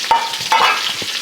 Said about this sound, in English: Now what you want to do is you want to cook this down, especially the fennel and the garlic.